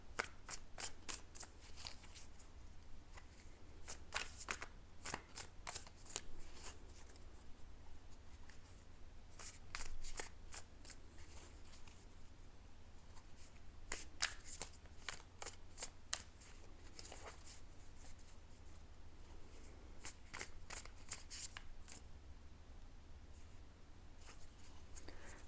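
Tarot cards shuffled by hand at close range: bursts of crisp riffling and snapping clusters come and go over about 25 seconds with quiet pauses between them, and no one talks.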